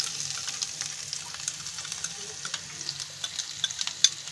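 Finely chopped onion frying in a pan with mustard seeds and cumin, a soft continuous sizzle with scattered small pops and crackles that sharpen toward the end.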